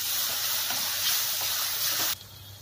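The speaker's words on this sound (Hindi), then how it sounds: "हमारा प्याज अच्छे से भुन गया है, सारा तेल बाहर निकलना शुरू हो गया है" Onions fry in oil with a pinch of salt, giving a steady close sizzle and hiss with faint stirring scrapes that cut off abruptly near the end.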